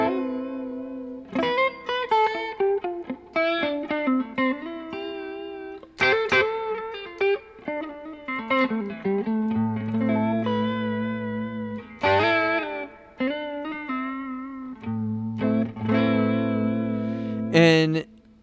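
A Hologram Chroma Console effects pedal shapes a melodic instrument line with reverb and echo, sustained notes and chords ringing out with a long wet tail and a steady low drone underneath, played continuously without talk.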